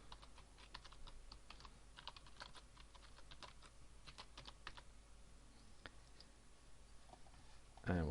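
Fingers type a password on a computer keyboard, a quiet run of quick, irregular key clicks close by, ending in a sharper tap.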